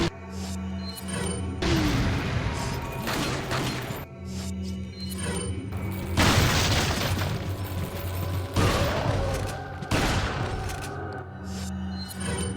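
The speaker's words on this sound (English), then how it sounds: "I'm just gonna flame grenade here" Flame grenade explosions in Resident Evil 4 erupt in several loud, roaring bursts of fire and crashing noise, separated by brief quieter gaps with game music droning underneath.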